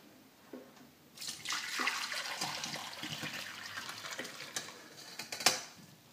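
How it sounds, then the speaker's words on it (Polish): Cooked ramen sauce pours through a sieve with a rushing, splashing flow that starts after a couple of seconds and carries on steadily, close by and moderately loud. "Sos już ugotowany, teraz trzeba go odcedzić."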